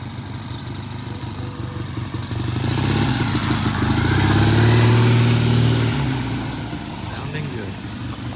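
A Triumph TR6 sports car on a test ride approaches and passes by, its engine swelling to a loud rumbling peak mid-clip and then fading away, with a little background noise around it.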